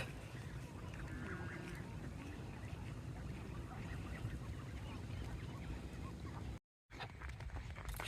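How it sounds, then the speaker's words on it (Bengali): A crowd of ducks and geese at an outdoor duck market keeps up a dense, continuous chorus of honks and quacks, steady and moderately close, with a brief dropout near the end. "হাঁসের মেলা"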